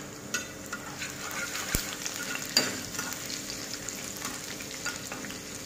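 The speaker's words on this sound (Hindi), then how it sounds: "हमारा तेल गर्म हो चुका है, अब हम इसमें जिंजर गार्लिक और हरी मिर्च कटी हुई ऐड करेंगे।" Chopped ginger, garlic and green chillies fry in hot oil, giving a steady sizzle with a few sharp clacks of a spoon against the pan and no talking.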